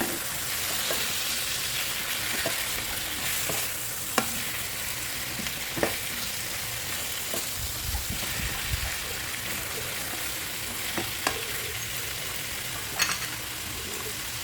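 A pan of adobo simmering in coconut milk with bay leaf is stirred, a steady close sizzle and bubbling under scattered spoon scrapes and clicks against the pan, with no talking.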